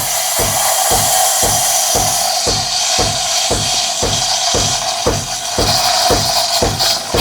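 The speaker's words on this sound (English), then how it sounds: "So that's the sound of the microfoam developing." Espresso machine steam wand frothing milk into microfoam, its tip just under the surface in a jug: a loud steady hiss with a rapid, regular pulsing tearing rhythm, close and continuous with no talk.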